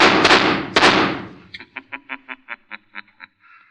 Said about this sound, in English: and they heard the shots